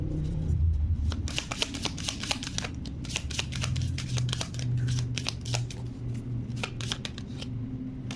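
Tarot cards being shuffled and drawn from a deck, a long run of quick crisp riffling clicks and slides close by, steady throughout with no talking.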